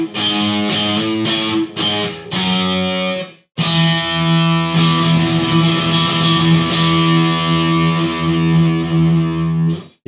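Electric guitar playing octave chords through heavy distortion, a run of short, choppy stabs followed by a brief gap and then a long sustained chord ringing out loud and close, with no talking.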